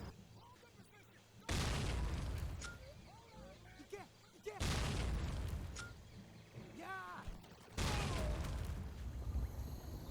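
Explosions in an action video game, with three loud booming blasts spaced a few seconds apart, each trailing into rumble, alongside scattered game effects and whistling tones between them.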